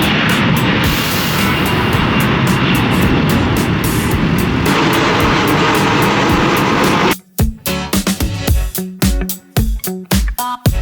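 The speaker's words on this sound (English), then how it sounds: "another plane coming in there, and another one behind it, and another one behind it" Jets landing one after another at Denver airport, a loud continuous roar of engines and rushing air that holds steady for several seconds, then breaks into choppy, buffeted bursts as if heard against strong wind.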